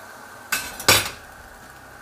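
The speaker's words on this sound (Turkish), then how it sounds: "Şöyle soğanı 4'e bölüyorum." A knife chopping through an onion on a board, two sharp close thuds about half a second apart in a quiet kitchen.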